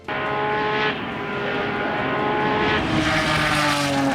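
A Nissan R35 GT-R race car drives at speed on a track, its engine a loud, sustained high-revving roar with shifting pitch, heard close and uninterrupted.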